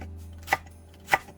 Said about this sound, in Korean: 양파는 반 개만 썰어줄게요.